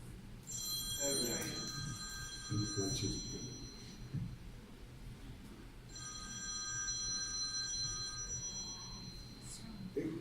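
A telephone rings in two bursts of trilling bells with a pause between, over low background noise and some faint voices.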